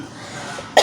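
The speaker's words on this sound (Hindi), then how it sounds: "सिर्फ खांसी है, सर्दी इतनी है।" A single sharp cough bursts out at the very end from a woman with a cold, after a stretch of near silence.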